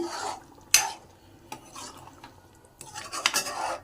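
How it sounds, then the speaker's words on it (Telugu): A spoon stirs tamarind juice into a pot of mutton and okra curry, with a few sharp clinks against the pan between soft wet sloshing, close up and with no talking. "ఇప్పుడు ఇందులో చింతపండు రసాన్ని వేసుకుందాం ఒకసారి బాగా కలుపుకుందాం"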